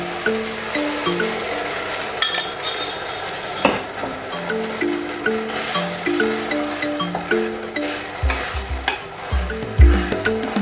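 Minced beef frying and being stirred in a pan for chilli beef tacos, with steady sizzling under repeated scraping stir strokes and occasional utensil clinks, close and fairly loud throughout.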